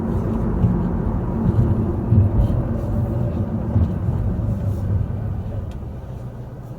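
A Mercedes CLA 250 loaner cruises along a freeway, heard from inside as a steady low road and engine rumble with a broad tire hum that carries evenly throughout.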